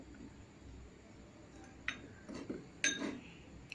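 A spoon mixes mustard powder, turmeric and salt in a bowl, giving a few soft scrapes and light clinks against the bowl, quiet and close with no talking.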